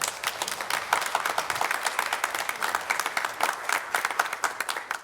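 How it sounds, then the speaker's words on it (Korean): A church congregation applauds a missionary coming forward at a Sunday service, a steady, moderately distant round of clapping with no speech over it. "나오실 때 다 같이 박수로 축복해 주시기를 부탁드립니다."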